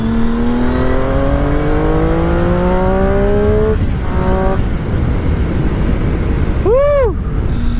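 Steady roar of wind buffeting a rider on a moving motorcycle, loud and constant, with engine tones rising underneath and a brief swooping whoosh near the end.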